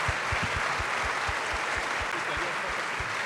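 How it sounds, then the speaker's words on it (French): Steady applause from the audience for the first award winner at a French craftsmanship prize ceremony, a dense wash of clapping with some thumping hits under it and a voice over the top. "C'est le moment où il faut applaudir"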